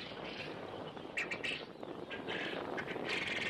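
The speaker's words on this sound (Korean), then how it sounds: "4월 말에 들어서면서 붉은 옷의 도요새들이 많이 날아들고 있습니다" Red-plumaged sandpipers call at the Mundok migratory bird wetland reserve in North Korea, thin scattered chirps rising over a steady hiss of background noise, fairly distant.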